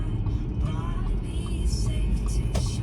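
A car drives along a road between Beaverton and Hillsboro, a steady, loud rumble of engine and road noise heard from inside the vehicle, continuous throughout with faint background sounds.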